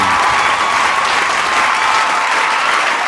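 Loud, dense audience applause for a newly named president, a continuous roar of many hands clapping close by with no speech over it.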